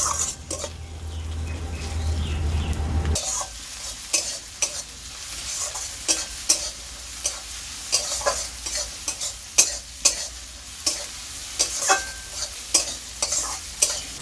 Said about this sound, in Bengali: টমেটো দিয়ে দেওয়ার পরে এবার আমি সব কিছু ভালো করে নেড়ে চেড়ে নেব